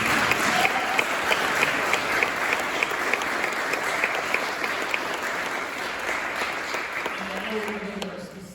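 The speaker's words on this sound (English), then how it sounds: "I want to give you a round of applause" Sustained applause from an audience at a Mental Health Awareness Month event in the Rhode Island State House, steady and fairly close, with individual claps standing out over the dense clatter and fading slightly near the end.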